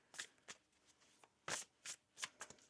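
A deck of oracle cards is shuffled by hand in a quiet room, with about seven soft riffling bursts in an uneven rhythm and no talking.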